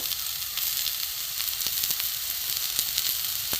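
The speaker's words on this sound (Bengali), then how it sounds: "একটু ভালো করে ভাজা হোক।" Taro leaf stalks fry in a pan with a steady, loud sizzle that holds throughout, broken by a few faint clicks from stirring. No one speaks.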